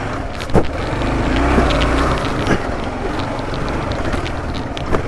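A Kawasaki KLR650 motorcycle riding off-road through a dip, its engine a steady, loud low rumble throughout with a few bumps and knocks on top, no talking.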